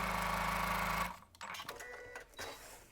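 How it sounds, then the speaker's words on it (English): A sewing machine stitches a quarter-inch seam on a zipper pouch, its rapid even hum running loud and close for about a second before stopping, followed by faint handling rustles. "And I'm just going to stitch."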